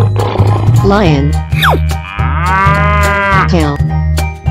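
A cow moos loudly and close, a long drawn-out low call, over a steady rhythmic musical beat with other brief sounds.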